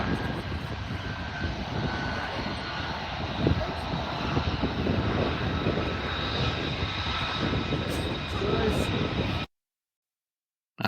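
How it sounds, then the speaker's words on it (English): F-35 fighter jets flying over an RAF base, a steady loud broadband engine roar filling the whole clip with some distant voices underneath, ending abruptly in silence. "just seeing that in front of you, it's an F-35"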